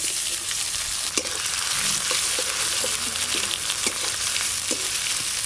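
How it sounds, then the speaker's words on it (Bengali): Chopped onions fry in hot oil with whole spices, bay leaf and dried chilli, a constant loud crackling sizzle broken by light knocks and scrapes as they are stirred, close up and without speech. "গরম তেলে পেঁয়াজ কুচিগুলো দুই একবার ভালো করে নেড়ে নিয়েছি"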